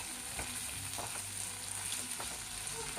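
Okra frying with dried fish in a pan, a steady close sizzle with a few light stirring scrapes, no voices over it.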